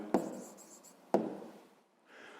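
A pen writes numbers by hand on paper for a fifth-grade maths exercise, giving two sharp taps each followed by a short scratchy stroke, close and quiet.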